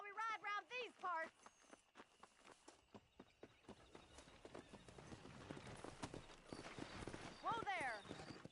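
Horse hooves clip-clop in a steady walking-to-trotting rhythm while riding in Red Dead Redemption, close and moderately loud, with a voice and a whinny-like call at the start and near the end.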